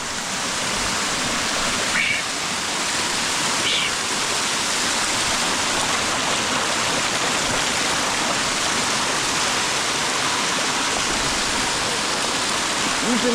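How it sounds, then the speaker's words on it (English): Water from a natural waterfall near a village rushes loud and steady, a dense continuous roar that continues unchanged from start to finish with no voices rising above it. "This is a natural waterfall."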